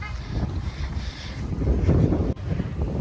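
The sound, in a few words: wind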